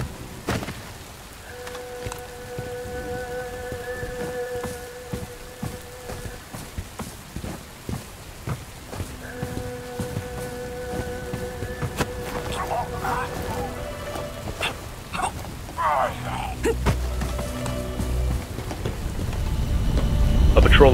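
Steady rain patters across a night stealth mission in the video game Bright Memory: Infinite, a continuous wash that swells louder toward the end, with clipped radio-style voice lines and faint tones layered over it.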